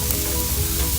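A ribeye steak sizzles in melting butter in a hot pan, a loud, close, unbroken crackling hiss with no voices.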